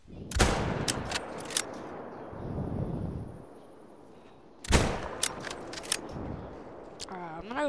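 Rifle shots in the hunting game theHunter: Call of the Wild, two sharp loud bursts of several rapid cracks each, separated by a few seconds, with someone talking between them.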